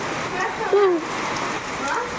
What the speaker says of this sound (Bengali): বৃষ্টি পড়ছে দেখো একটু